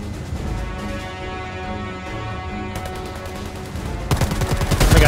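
Rapid bursts of automatic gunfire in the game Predator: Hunting Grounds, loud and sustained with dense repeated shots that intensify toward the end, heard alongside game music.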